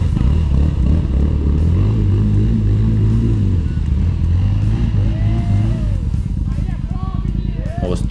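A Yamaha XT 660 motorcycle's engine labours loudly and close while crossing water in an off-road challenge, with pitch rising and falling, splashing clatter toward the end and people talking over it.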